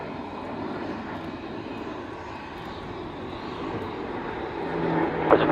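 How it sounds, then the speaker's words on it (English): An Airbus A400 military transport aircraft flies past at an air show, its engine drone a broad, steady roar at moderate distance that swells slightly louder near the end. "Airbus 400 turning downwind for landing"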